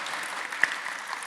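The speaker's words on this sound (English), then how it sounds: "quick round of applause to our young innovators" Brief applause from a conference audience for young innovators at a national conference, one sharp clap standing out from a soft, short patter.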